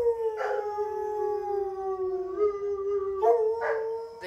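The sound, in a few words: dogs howling in refuge kennels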